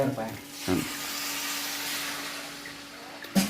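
A sharp burst of hissing sizzle rises as water hits a hot wok while stir-frying snakehead fish curry, then holds as a steady steamy hiss with a brief voice at the edges.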